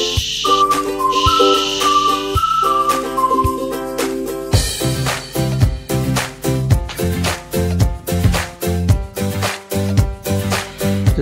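Magic cooking pot in an animated cartoon whistling in shrill stepped tones over a hiss of steam, then breaking into a loud, rhythmic series of pulsing bursts.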